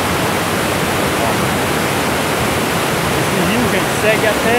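A river flowing at the top of Cachoeira da Chave in Votorantim, a loud, steady, close rushing of water that stays constant throughout.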